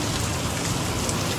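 Rain falling at night at a farmhouse, a steady close patter and hiss of drops on surfaces, continuous and fairly loud, with no voices.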